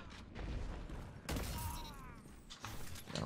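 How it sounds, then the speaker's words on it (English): An enemy fires a Recluse gun in a video game, sending rapid, sharp gunfire that crackles in bursts at moderate distance amid clanks and impacts. "I'm getting shot by a recluse."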